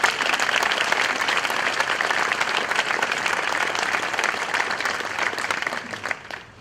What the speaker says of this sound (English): Please give all these community organizations a round of applause.